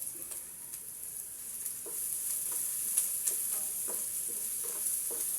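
Onion and garlic sautéing in a pan for chop suey, a steady high sizzle with light scraping stir strokes tapping now and then, close and fairly quiet.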